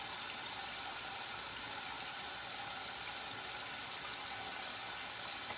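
Tap water runs in a steady, continuous hiss during a wet shave with a razor, close and fairly quiet with no voices.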